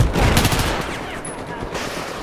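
Gunfire in the Battlefield 4 video game on a Lancang Dam conquest map, a loud close burst of rapid shots that decays into echoing reverberation over about two seconds.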